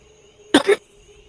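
A single short sneeze from a player during a tabletop Dungeons and Dragons session bursts out close and sharp in two quick parts, over a quiet room with a faint steady hum.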